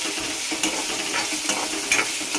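Chillies and potato pieces frying in hot oil for kande pohe, a steady bright sizzle with repeated scraping strokes of a spoon stirring the pan.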